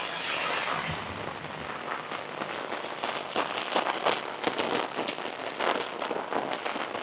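Heavy rain grows stronger in a rural South Carolina town, a dense loud hiss with crackling bursts of drops striking surfaces nearby, steadily building with no voices.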